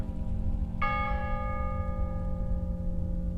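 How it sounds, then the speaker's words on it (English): A single bell stroke rings out clearly over a low steady hum, its bright metallic tone sustaining and slowly decaying for several seconds. "the bell struck 12."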